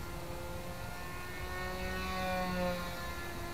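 Small foam and Depron model flying wing with an electric motor and propeller held at about half throttle, giving a steady, continuous whirring drone with stable tonal harmonics that swell slightly near the end, heard alone with no talk.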